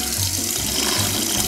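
Water pours steadily from a bathroom sink tap while someone is brushing their teeth, a close, continuous hiss and splash lasting the whole moment with no voices.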